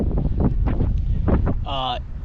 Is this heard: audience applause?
no